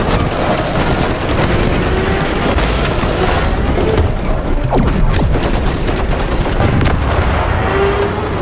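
Rapid weapon fire in the video game Split Fiction, a dense, loud barrage of gunshots and booms that keeps going without a break.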